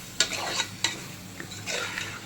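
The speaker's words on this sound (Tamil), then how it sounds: "கிளறி விடலாம். அந்த மசாலாவோட நல்லா மிக்ஸ் ஆகட்டும்." Chicken being stirred into masala in a pot for biryani, with several sharp scraping strokes and a soft frying hiss between them, close and fairly quiet.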